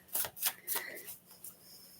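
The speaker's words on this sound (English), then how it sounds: "One more shuffle." A deck of tarot cards is shuffled by hand, with several quick riffling bursts in close succession that fade out, near and fairly quiet.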